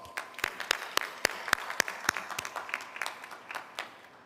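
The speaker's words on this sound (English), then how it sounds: "Please give them a big round of applause." Audience applause at a Bowie State University spring commencement ceremony, a sparse, distant crowd of individual claps with a few sharp nearby hand claps standing out, fairly faint and tapering off over a few seconds.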